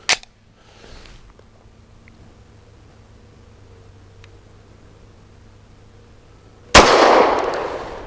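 A 9mm pistol fires Magtech steel-case 115-grain rounds, a sharp, loud report at the start, then near-quiet before a second loud, sustained blast near the end.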